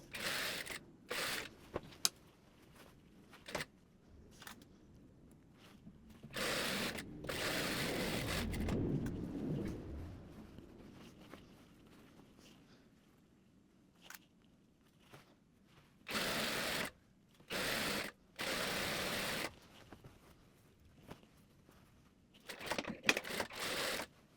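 A sewing machine stitches the hem of a dress in repeated bursts, some brief and some sustained, alternating with quiet pauses and a low rumbling stretch.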